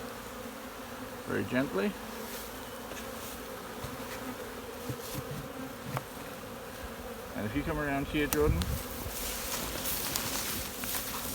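Bees from a swarm being caught and hived into a box with foundation frames hum in a steady, continuous drone throughout, with people talking quietly over it and a few brief louder rustles.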